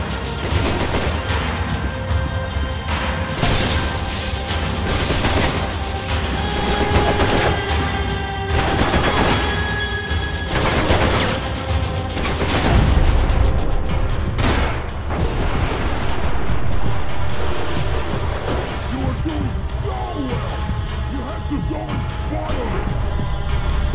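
Max Payne 3 firefight with repeated loud gunshots and bursts of automatic fire, crashes and debris through the stretch, and a voice talking over part of the action.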